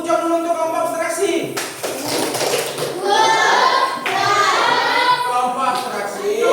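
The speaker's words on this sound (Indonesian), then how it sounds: "tepuk tangan sekali lagi untuk kelompok abstraksi" A group in a classroom applauds with rhythmic clapping, and children's voices and chatter run under it from start to finish.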